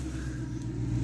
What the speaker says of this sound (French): une Ford Mustang